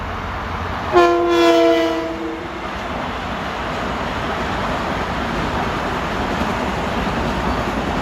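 LIRR train 1955, Ronkonkoma to Penn Station, sounds a loud horn blast at the Little East Neck Road grade crossing, followed by the steady rumble of the train passing close by.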